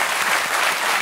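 A French television talk-show studio audience applauds steadily, a loud, dense wash of clapping filling the whole second without a break.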